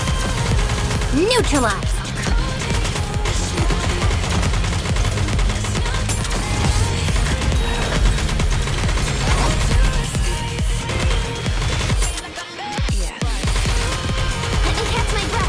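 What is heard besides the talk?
gunfire in the video game Goddess of Victory: NIKKE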